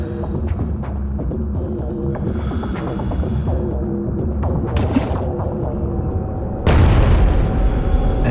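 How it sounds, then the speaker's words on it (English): Underwater explosion near a docked gunboat: a murky low rumble of water and motion, then a sudden loud broadband boom that stays heavy until the end. "an explosion ripped through the water"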